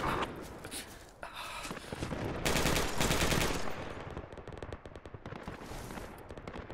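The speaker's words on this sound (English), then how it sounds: "Sounds like there's an emplaced machine gun somewhere." Emplaced machine gun firing in the game Project Reality, with sustained bursts of automatic gunfire mixed with other battlefield shots, moderately loud and continuous throughout, with brief louder stretches.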